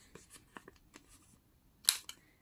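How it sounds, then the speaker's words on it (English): Scissors snipping curved corners on a handmade notebook cover, a few faint close snips followed by one sharper, louder cut near the end. "Gonna cut those corners here"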